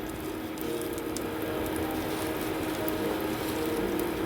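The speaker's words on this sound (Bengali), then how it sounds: "এই তেলের মধ্যে আমি একটু কালো জিরে ফোড়ন দিয়ে দিলাম।" Nigella seeds sizzle steadily in hot oil as the base for a taro-leaf and prawn curry, a continuous crackling hiss with no talk.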